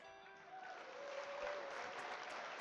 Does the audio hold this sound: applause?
yes